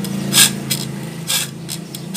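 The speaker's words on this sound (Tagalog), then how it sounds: "Ang style ng paghasa ng lagari ganito, medyo patumba" A hand file rasps across the teeth of a handsaw being sharpened, several short gritty strokes in an uneven rhythm, close and clear, with no talking.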